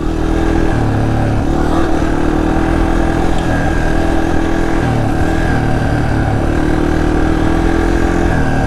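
Yamaha TTR230 dirt bike engine running steadily while riding, a loud, continuous single-cylinder drone with small throttle changes and no break.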